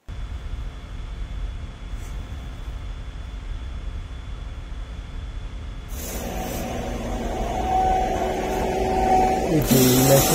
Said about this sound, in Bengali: এই যে মেশিনটা দিয়ে পরিষ্কার করা হয়।